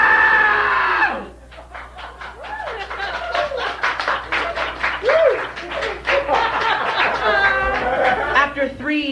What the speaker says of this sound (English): this is the part where I scream